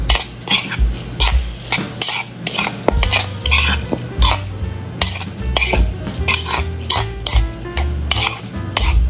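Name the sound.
mixing breadcrumbs and flour in a bowl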